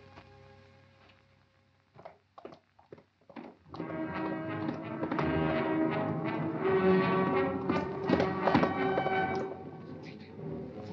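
Horses' hooves clop in a few scattered beats, then build into a loud, continuous galloping rumble that runs for several seconds before easing slightly.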